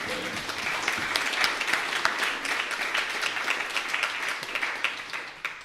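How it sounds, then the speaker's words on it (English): A crowd applauds steadily and warmly for the whole stretch, with dense overlapping claps that hold at an even level and no talking on top. "I think there's a round of applause in there, surely, isn't there?"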